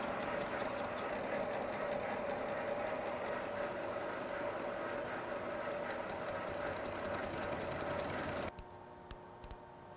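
Machine tool cutting threads on a worn drive hub, taken slowly: a steady mechanical hum and rumble with a clear running tone that continues evenly for about eight seconds, then stops abruptly, leaving faint clicks.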